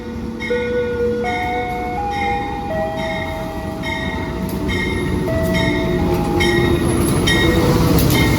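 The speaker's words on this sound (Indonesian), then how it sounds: "di sini kita akan bersilang untuk terakhir kalinya ya teman-teman, dengan kereta api sesama PSO atau sama-sama subsidi, yaitu dengan kereta api Kahuripan" A Kahuripan passenger train rolls past on the crossing track, heard from aboard another train as a steady, loud rumble of wheels and carriages with ringing squeals and a rising tone running through it, no voices.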